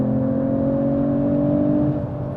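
A Mercedes-AMG CLE53 coupe with a big engine and electric auxiliary turbos accelerates, its engine drone a steady, loud hum inside the cabin, with no speech over it.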